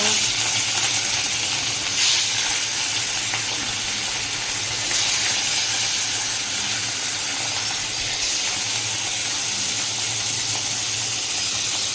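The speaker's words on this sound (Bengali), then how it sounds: "মাছগুলো ভাজা হতে থাক, এদিকে মাছটা ভাজা হতে থাকে" Tilapia fish frying in hot oil in a wok, giving a loud, steady, unbroken hiss of sizzling oil that swells slightly in places, close by and with no speech.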